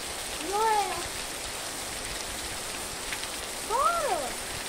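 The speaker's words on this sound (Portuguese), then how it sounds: "Chuva com força, viu?" Heavy rain in the semi-arid northeastern Brazilian backcountry makes a constant hiss throughout, while two short voiced calls rise and fall over it, one early and one near the end.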